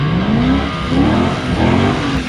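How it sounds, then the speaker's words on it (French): A BMW engine revs hard to the rev limiter, producing a loud, close, sustained roar with a repeated bouncing rise and fall as the limiter cuts in, and no voices. "Arrête de l'emmener au rupteur!"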